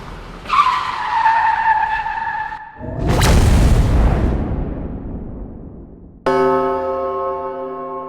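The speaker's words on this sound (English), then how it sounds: "because I want the car sample not to be pitched" A car skidding sample triggered in the SampleScape iOS app: a tonal tire squeal sweeping through, then a loud broadband screech and rumble fading away, followed by a bright harmonic tone.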